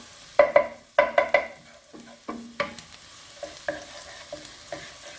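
Garlic sizzles in a hot pan while being stirred, with a series of sharp clattering utensil scrapes and taps over a steady frying hiss, close and loud, no talking.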